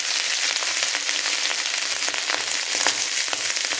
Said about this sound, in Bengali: তো ঘিটা গরম হয়ে গেছে। এরপর এখানে দিয়ে দিচ্ছি পরিমাণ মতো ভাত।